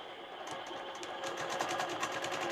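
Sewing machine stitching in the ditch along a ruler template while machine quilting, a close, steady rapid whir of the needle that gets louder and denser partway through, with no talking.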